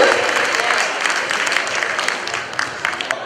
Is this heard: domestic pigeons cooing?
no